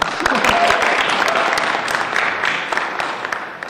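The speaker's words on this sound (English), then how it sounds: "Give him an extra round of applause." Audience at an awards ceremony applauds, a dense, loud wash of many hands clapping that runs steadily and gradually thins toward the end.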